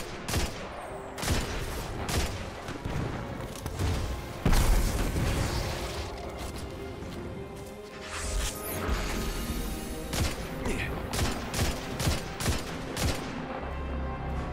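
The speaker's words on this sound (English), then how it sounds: "He got a freaking rocket launcher!" Dense Destiny 2 combat: rapid bursts of gunfire and repeated heavy booms from rocket-launcher blasts hit one after another at close range, loud and continuous, with mechanical clanks between volleys and no talk.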